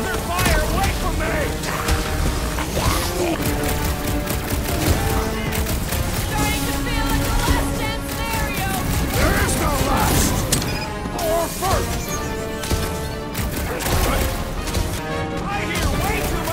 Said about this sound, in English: I hear way too much shooting!